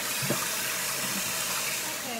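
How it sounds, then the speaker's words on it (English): Water runs at a sink as a face is rinsed, a soft steady splashing and trickle heard close by for a couple of seconds. "Then I'm gonna rinse it off."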